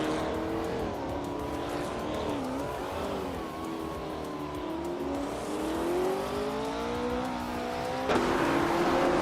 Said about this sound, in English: Ingo McCringleberry is in a 1969 Porsche 9082 Spider